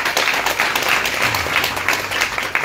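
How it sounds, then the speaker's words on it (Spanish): An audience claps for Rafa at a home food giveaway event by La Dinastía de Tuzantla, a brief burst of brisk, fairly close clapping with uneven accents. "Otro aplauso para Rafa."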